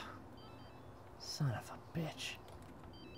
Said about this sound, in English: Alright, whose phone is ringing?